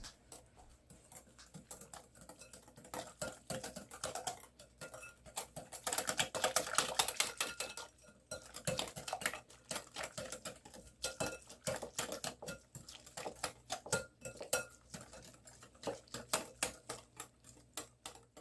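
Rapid, steady clicking and clinking comes from a utensil stirring a seasoning mix with a teaspoon of paprika in a bowl for onion rings. The sound runs continuously up close, with busier stretches throughout.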